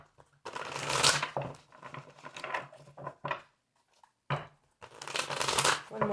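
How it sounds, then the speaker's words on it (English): Tarot cards being shuffled by hand, in several bursts of dense riffling and flicking, close and crisp, separated by short pauses. "One more shuffle."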